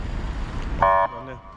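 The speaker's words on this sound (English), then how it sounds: "I just got honked at by the police for almost jaywalking" A single short police car horn honk sounds nearby over street traffic noise in Poland, then cuts off.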